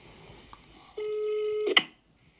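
A telephone call to a company in Türkiye: a few faint button presses, then a single steady ringback tone held for most of a second before a click as the line connects.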